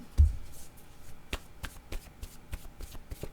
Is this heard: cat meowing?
no